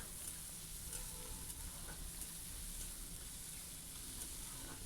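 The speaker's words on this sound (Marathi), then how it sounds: "मस्त कांदा लाल होईल असा परतून घ्यायचा" Chopped onions sautéing in a pan for a bhindi (okra) dish, a steady close sizzle and frying hiss throughout with faint stirring, no voices.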